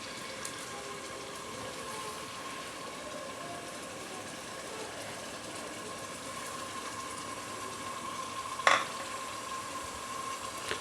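Chopped onion and chicken fry in a pan with a soft, steady sizzle throughout, broken by one short utensil clink near the end.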